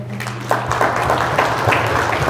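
A church congregation applauds together, steady dense clapping from many hands that rises after a brief start and continues evenly, with a low hum underneath.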